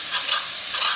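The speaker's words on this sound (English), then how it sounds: "That's scraping, gently scraping drippings" Gentle scraping of drippings off a cooking pan bottom, a brief hissy, sizzling rasp with soft strokes, close and fairly quiet, lasting about a second.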